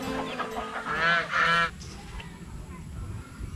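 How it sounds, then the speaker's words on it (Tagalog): Geese honk loudly in a farmyard with chickens, a burst of harsh, nasal calls in the first half that overlap and then give way to quieter background noise. "Kaso matapang yung mga gansa."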